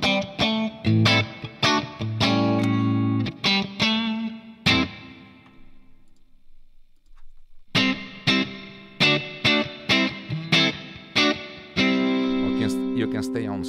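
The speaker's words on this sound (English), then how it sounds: "I use this reverb only to create an ambient effect, a small ambient effect." Electric guitar through a Fractal reverb preset plays plucked notes and chords washed in reverb, with a long ringing tail fading into near silence before the playing resumes.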